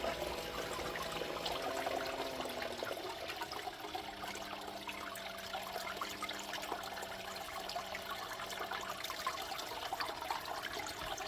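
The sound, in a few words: water flowing over a Miller table for gold separation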